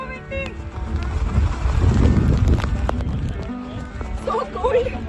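Strong wind buffets a microphone on a cold, rainy mountain trek, a rough low rumble that swells and eases, with voices and other faint sounds in the background.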